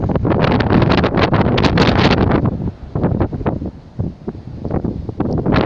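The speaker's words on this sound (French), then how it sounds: "il y a beaucoup de vent." Heavy wind buffeting a microphone outdoors during metal detecting, loud rumbling gusts that swell and ease in rough bursts throughout.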